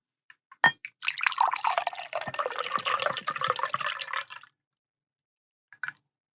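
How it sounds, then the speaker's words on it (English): A frothy Pisco sour with egg white pours into a cocktail glass in one continuous close liquid stream of about three seconds, framed by a few small clinks and drips before and after. "So I'm going to go ahead and pour it into my new cocktail glass."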